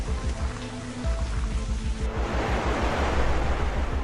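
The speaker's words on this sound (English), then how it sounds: "Powerful tropical rain gives the final blow." Heavy tropical rain on African farmland, a dense steady roar of downpour that swells louder and hissier halfway through, with no voices.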